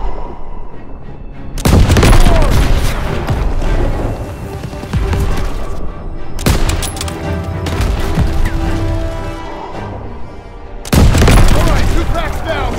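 Heavy gunfire blasts at ammo boxes in a Call of Duty WWII battle: loud, dense bursts of shots and booms in three long volleys separated by brief lulls, up close and continuous.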